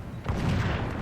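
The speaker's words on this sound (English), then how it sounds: "units are firing at each other, and it's just a continuous firefight among them." Units in a strategy video game battle trade fire in a short, dense rumble of booms and shots, steady and moderately loud without a break.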